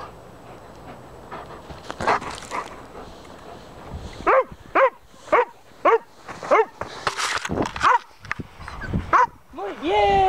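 A dog barks repeatedly in short, sharp bursts while playing fetch with a ball, loud and close, with a person talking and cheering over the barks and some panting and whimpering between them.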